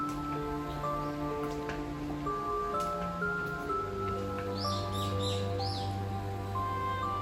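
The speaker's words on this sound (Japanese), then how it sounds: "鳥のさえずりが、静寂の中響き渡ります。" Birds singing in the misty morning mountains around a secluded hot spring inn, faint scattered chirps and short trills over a constant hum, with distant calls that drift in and out.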